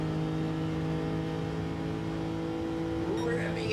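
A race car engine revs hard in a sim racing game at Monza, a steady loud drone that climbs in pitch near the end, with a voice talking over it.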